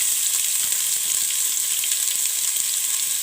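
Sliced large onion sautéing in hot oil in a pan for chickpea biryani, a steady close hiss and sizzle with faint stirring, no voices.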